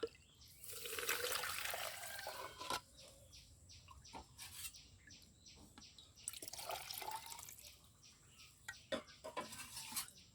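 Water from washed rice being poured into a bottle, with soft trickling and gurgling, irregular drips and splashes, quiet and close.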